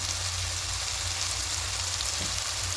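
Ground coriander, cumin and a pinch of turmeric fry in hot oil in a pan for a katla fish curry, giving a steady, even sizzle that hisses on without a break.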